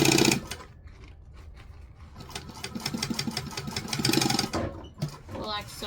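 A sewing machine topstitches fabric closed, running close to the edge in a steady, rapid mechanical whir that holds for several seconds and then stops briefly.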